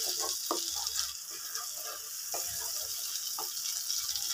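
Whole spices for butter chicken masala fry in a pan with a steady close-up sizzle, punctuated by several sharp scraping knocks as a spoon stirs them around.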